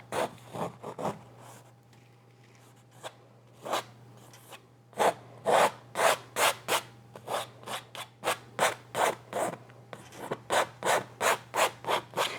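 A palette knife scrapes oil paint off a canvas in repeated short rasping strokes, sparse at first then in a quick regular rhythm, close and fairly loud, with no talking.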